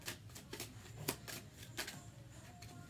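Tarot cards being shuffled, a series of quick papery riffles and flutters at close range, with one sharper snap near the middle and no voices.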